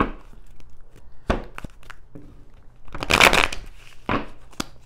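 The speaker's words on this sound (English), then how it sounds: "So I need to shuffle them." Tarot cards are riffled and shuffled in several quick bursts, crisp papery flutters close by with brief pauses between.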